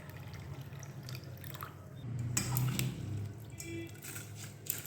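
Water draining through a kitchen strainer while preparing a palm-fruit pitha, with soft trickling and dripping spread over the whole stretch and a fuller gush in the middle, close and quiet.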